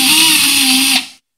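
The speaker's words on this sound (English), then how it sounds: "I mostly use this drill for just drilling easy stuff" A Drillmaster cordless drill whirs steadily at high speed for about a second, then winds down and stops.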